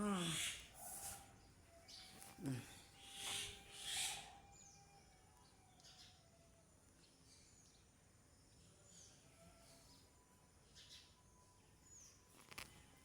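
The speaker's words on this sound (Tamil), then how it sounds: "இங்கேயும் குருவி நம்ம வீட்லேயும் குருவி கிச் கிச் கிச்" Sparrows chirp in short bursts, a few bright calls standing out early on, then scattered fainter tweets over a quiet background.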